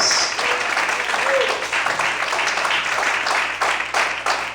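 A church congregation applauds during an evening service, producing steady, moderately loud clapping with no talk over it.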